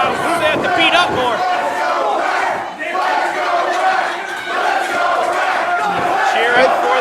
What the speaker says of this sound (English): The crowd saying both teams suck.